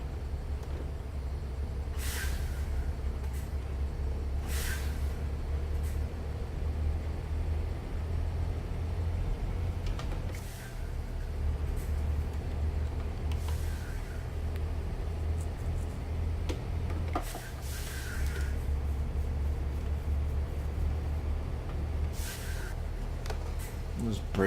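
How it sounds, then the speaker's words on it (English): Air brakes on a truck in American Truck Simulator hiss repeatedly in short bursts over a constant low engine rumble, the check valves releasing again and again at irregular intervals. "Those brakes going off all the time."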